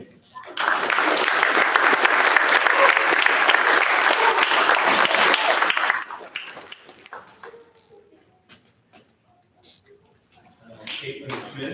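Loud, sustained applause from an audience at a graduation-style ceremony for about six seconds, then fading to scattered claps and quiet room noise before a brief swell.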